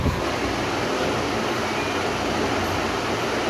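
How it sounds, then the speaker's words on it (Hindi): Steady broadband whoosh of a room air conditioner running in a home, constant and fairly loud with no talking. "एसी चल गया"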